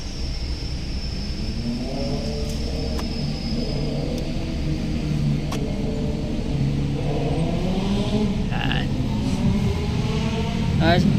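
BMW 118i (2018) engine idling steadily with a smooth, continuous hum that swells slightly toward the end, while people talk nearby.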